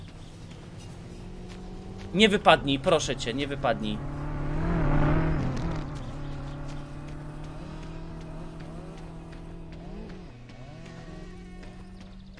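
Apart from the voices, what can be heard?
car driving past, from the video game My Summer Car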